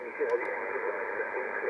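An Icom IC-7300 amateur radio receiving a signal with its noise blanker on produces a steady band of hissy, distorted noise with garbled voice-like content running throughout, with a couple of faint ticks near the start.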